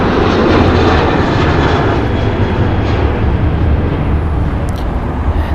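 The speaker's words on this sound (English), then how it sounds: "That there was United Airlines Flight 1416 going to Houston, a Boeing 737-9ER, 7 years old." A seven-year-old United Airlines Boeing 737-9ER jet taking off at LAX for Houston, its loud close engine roar dominating throughout and easing slightly toward the end, with no voices.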